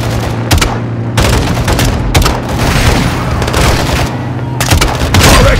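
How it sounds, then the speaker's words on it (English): Launcher fire and heavy explosions boom in Call of Duty MW2 in Urzikstan, loud dense bursts and gunfire packed close together, with brief game dialogue under the din. "Gaz, hit with the launcher."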